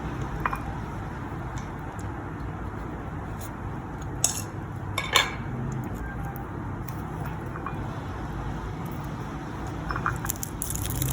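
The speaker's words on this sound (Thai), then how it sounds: "พริกคั่วแล้วเราก็มาตัดก้านออก" Stems being snipped off roasted dried chilies with faint, sporadic clicks and small crisp snaps over a steady low kitchen hum, with no talking.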